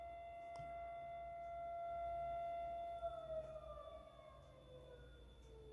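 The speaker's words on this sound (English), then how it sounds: "It's really weird that siren went off right when I'm saying this." A siren goes off outside in the distance, a faint, steady wailing tone that holds and then slowly falls away over a quiet background.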